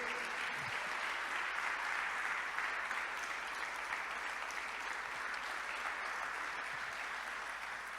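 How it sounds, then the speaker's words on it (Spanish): A church congregation gives a strong, sustained round of applause, a dense steady roar of clapping hands that holds evenly for the whole stretch without any talk over it. "honremos al Señor con un poderoso aplauso de gratitud"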